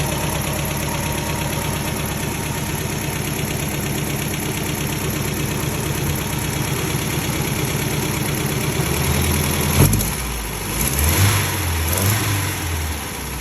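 An MGB engine idles steadily and loudly up close, with a rhythmic low thrum throughout and a slight rise in pitch near the end as it warms.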